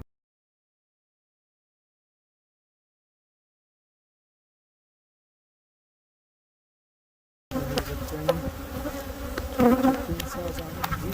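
Honey bees buzz densely over queen cells in a hive, a close, steady insect hum that starts abruptly after a long silence and runs to the end.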